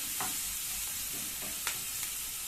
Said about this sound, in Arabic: وتصفري برضو البصلايه يعني، خليها ايه تحمر قوي